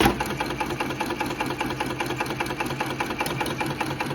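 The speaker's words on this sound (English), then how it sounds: "I will let the clamp down, and now I will let it sew a couple stitches" VMA 3020GH industrial sewing machine running a few stitches, a close, steady, fast mechanical chatter with a rapid, even rhythm throughout.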